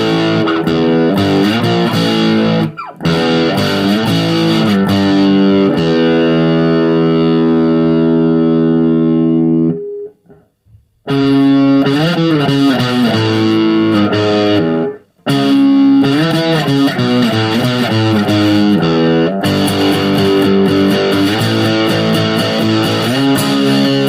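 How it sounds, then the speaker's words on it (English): A SubZero Snowstorm distortion pedal turned up loud, driving thick, buzzing distorted guitar chords and sustained notes, with a couple of brief silent gaps between phrases and no talking. "I noticed when this distortion is turned up, it's really rather loud"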